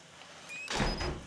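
A door closing in the horror video game Outlast 2, a heavy sliding thud that swells briefly over faint game ambience, with no talk over it.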